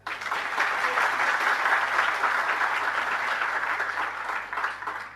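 Listeners at a Jain religious discourse break into steady, dense applause that holds evenly for several seconds at moderate level, with a faint low hum underneath.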